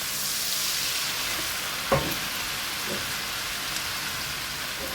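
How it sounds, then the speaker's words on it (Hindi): A pan of butter chicken base sizzles and fries steadily as tomato puree goes in, with a brief clink of a utensil against the pan, close and even throughout. "टमाटो प्यूरी ऐड कर देंगे।"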